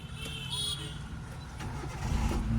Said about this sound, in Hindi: अभी स्टार्ट करो क्लच दबा के